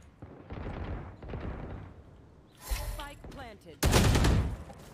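Gunfire in a ranked match of the video game Valorant, with rapid bursts of shots and a loud final volley, heard alongside players talking.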